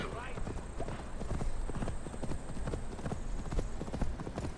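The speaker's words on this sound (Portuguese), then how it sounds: "Eu só mando o cavalo correr mais rápido." Horse galloping in Assassin's Creed Valhalla, a steady rapid clip-clop of hooves running on for several seconds at close range, with someone talking over it.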